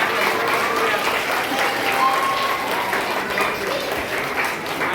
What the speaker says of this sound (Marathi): जोरदार टाळ्या वाजून आपण